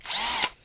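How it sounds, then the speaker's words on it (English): A brief, loud whine of a power drill with a 9/16 bit spinning up and cutting off, under a second long, close by. "So I'm going to take, say, a 9/16 drill."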